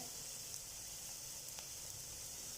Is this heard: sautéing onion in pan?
yes